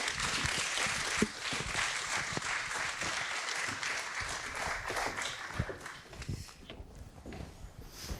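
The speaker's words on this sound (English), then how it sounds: "Give them a big round of applause." A conference audience applauds after an introduction at a New Frontiers session, a steady wash of clapping lasting several seconds at moderate level, with faint footstep-like thumps mixed in.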